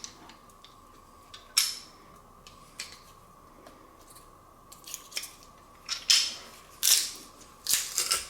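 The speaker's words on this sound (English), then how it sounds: "Now let's crush or mince our garlic cloves, in this case I'm crushing them, into the mix" Garlic cloves being squeezed through a metal garlic press, a series of short crunching, clicking squeezes, sparse at first and clustering toward the end, close and fairly loud with no voices.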